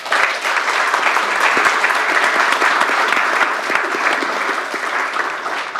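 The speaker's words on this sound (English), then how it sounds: "let's give a round of applause" Sustained applause from an audience at a poetry event with the Poets Laureate of Missouri and Kansas, dense steady clapping filling the room at an even level throughout.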